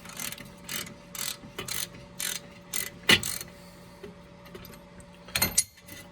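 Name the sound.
ratchet loosening strut bolt nut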